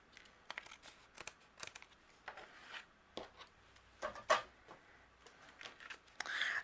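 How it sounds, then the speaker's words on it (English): Scissors trimming overhanging adhesive-backed fun foam in a spring carrot craft, close, quiet crinkly snips and rustles in irregular bursts. "the excess that's overhanging, I'm going to trim off with my scissors"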